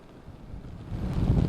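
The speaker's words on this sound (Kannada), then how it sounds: "ಕರಾವಳಿ ಜಿಲ್ಲೆ ಉಡುಪಿಯಲ್ಲಿ ವಿಪರೀತವಾದ ಗಾಳಿ ಮಳೆ ಆಗ್ತಾ ಇದೆ" Strong monsoon wind buffets the microphone on the Udupi coast during heavy rain, a steady low roar that swells louder toward the end, with no voices.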